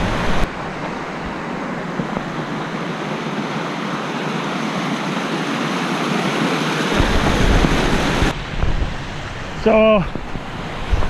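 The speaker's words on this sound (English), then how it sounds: "Right here we have the lesser Deuel Creek Falls. Again, there's a lot of water for this time of year." Lesser Deuel Creek Falls rushes with a constant broadband roar of water running high for the season, heard close and loud; a brief spoken word and a short whistling sound break in near the end.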